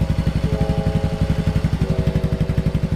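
A Yamaha Mio i 125S scooter with an Akrapovic exhaust and dB killer idling up close, deep, throaty exhaust with steady rapid pulsing thumps and a faint whine on top, running continuously with no talking.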